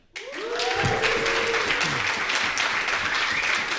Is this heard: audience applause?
yes